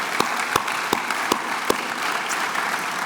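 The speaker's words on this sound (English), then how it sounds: "And while you're clapping" Congregation clapping in a church chapel to recognise students heading to high school; a steady bed of applause with several loud, sharp claps close by at roughly regular intervals early on.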